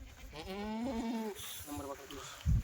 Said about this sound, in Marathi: दोन गाभण शेळी म्हणजे बकऱ्या भेटल्या आपल्याला हे बघा